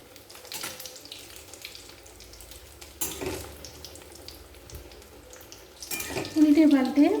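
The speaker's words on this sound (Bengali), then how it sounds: "আমি কাটলেটগুলো তেলে ভেজে নেব" Chicken cutlets fry in oil over a medium-low flame, giving a soft steady sizzle that swells louder near the end, with faint background clatter.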